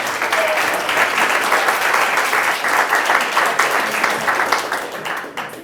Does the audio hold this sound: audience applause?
yes